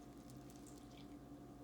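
Half a cup of water is poured into a bowl of oatmeal play clay mix, giving a steady, quiet splashing trickle that runs unbroken for a moment over a low background hum, with no voices.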